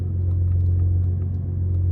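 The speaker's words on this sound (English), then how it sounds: "I would like to note the exhaust is pretty loud on this truck too" Loud exhaust of a 2023 Ford F150 Raptor truck, a steady deep low rumble that holds even and strong throughout with no voices.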